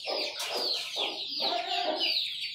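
Chickens cluck repeatedly in a steady, chattering series in a rooftop poultry pen, close by and fairly loud, with no talking.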